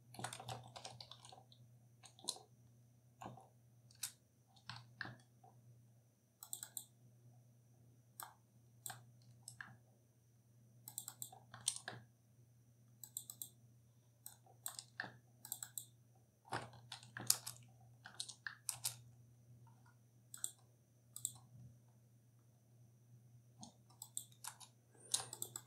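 Computer keyboard typing in short irregular bursts of sharp, close key clicks separated by quiet gaps, over a low steady hum, with no talking.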